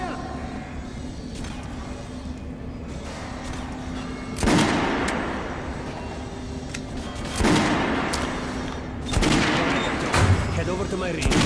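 Gunfire at a shooting range in the video game Metro Last Light, with loud shotgun-like blasts at about 4.5, 7.5 and 9 seconds over a steady low hum and game ambience.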